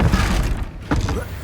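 A blasting-spell explosion in the Hogwarts Legacy video game, a brief shattering thud and burst heard close and loud among game sounds, with a voice calling out.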